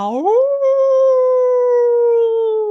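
A single long howl from a human voice imitating a wolf, rising quickly in pitch then holding a clear, steady tone before trailing off.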